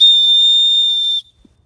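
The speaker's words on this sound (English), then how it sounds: "The buckle on the dry bag also has a blood-curdling whistle." A shrill, piercing whistle built into the buckle of an Expedition Research tactical dry bag sounds as one loud, steady blast lasting about a second, then cuts off abruptly into near silence.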